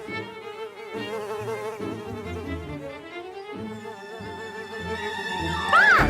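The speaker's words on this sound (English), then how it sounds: "Oh, Nits, it's a fuzzer buzzer." A droning, wavering cartoon buzz of an insect hums steadily over a musical backing, ending with a quick rising whistle.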